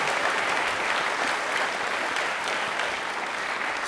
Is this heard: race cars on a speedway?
no